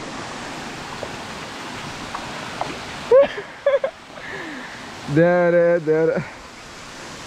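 A small forest stream flows along the Netravati trek, a steady soft rushing wash of water heard throughout, with people speaking briefly over it.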